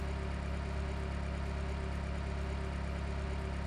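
Car engine idling steadily in the Electude Simulator driving and repair game after a wiring fix, a constant even drone with a low hum that holds unchanged throughout, with no talking.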